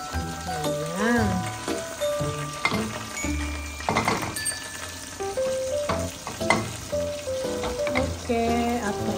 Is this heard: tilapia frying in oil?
yes